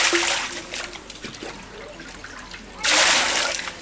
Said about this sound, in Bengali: এখন কিন্তু সরাসরি কিন্তু পানি ঢেলে দিলেন।